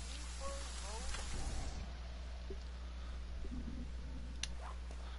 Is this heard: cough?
no